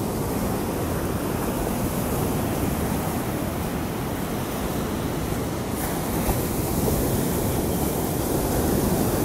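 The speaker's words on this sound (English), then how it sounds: "these waves are pretty strong, and there's some strong currents" Strong ocean surf rolling onto a foggy Jacksonville Beach, Florida shore at sunrise, a loud, continuous broadband roar with a slight swell in the last seconds and no voices.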